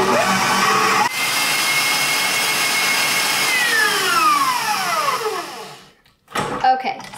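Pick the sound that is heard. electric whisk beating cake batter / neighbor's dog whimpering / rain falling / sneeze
electric whisk beating cake batter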